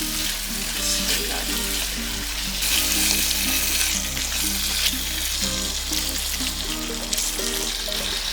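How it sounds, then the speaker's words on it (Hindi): Mutton liver with chopped coriander and mint is stirred in a frying pan, giving a loud, continuous sizzle with scraping strokes and a steady low hum underneath, without any speech. "और अब हम इसको अच्छे से मिक्स कर लेते हैं।"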